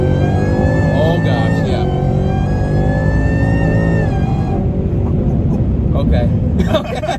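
A car fitted with a VMP Odin supercharger kit, a 2018-20 model, accelerates hard with a loud, steady engine roar rising through gears and the tires breaking loose. A person talks briefly over the engine noise.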